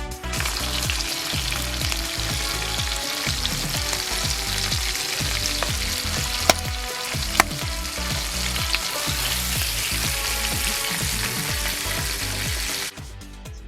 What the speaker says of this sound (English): Fry whole squid mantle and tentacles until brown on each